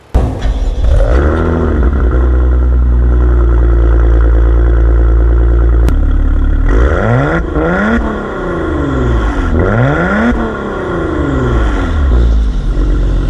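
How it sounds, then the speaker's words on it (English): A powerful Maserati Ghibli twin-turbo V6 engine revs hard, holding a loud roar before surging up and down through several throttle blips, close and aggressive. "what's the Maserati without that engine note?"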